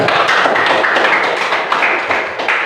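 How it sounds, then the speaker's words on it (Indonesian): An Islamic school class of students clapping their hands, a loud, close, dense burst of claps lasting about three seconds and heard on its own. "Sekali lagi tepuk tangan dulu untuk kalian."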